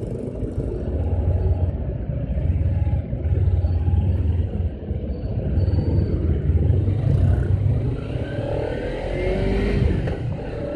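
Dense road traffic in a slow jam, a steady mix of car and motorcycle engines rumbling and revving nearby, continuous throughout with no talk.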